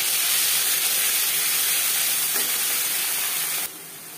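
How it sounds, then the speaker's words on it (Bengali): Ginger paste and green chili paste hit hot oil already seasoned with panch phoron and dried red chilies, giving a loud, steady hiss that runs throughout and drops slightly near the end. "5 ফোড়ন শুকনো লঙ্কা ভেজে নেওয়ার পর অ্যাড করলাম আদা বাটা, কাঁচা লঙ্কা বাটা।"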